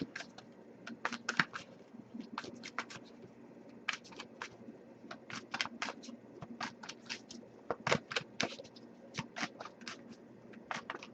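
Cards are shuffled in quick bursts of crisp riffling clicks, separated by short pauses, close and fairly quiet.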